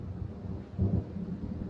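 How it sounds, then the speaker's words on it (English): Low rolling thunder from an approaching storm in the video game Alan Wake, a muffled rumble that swells briefly near the middle and then settles into a dull background roar. "It seems there's a storm coming."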